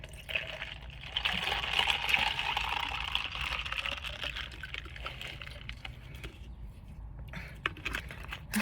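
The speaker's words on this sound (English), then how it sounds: "pouring water and ice" Water and ice poured into a container, a steady close liquid rush with light rattling and trickling that eases off toward the end, alone without speech.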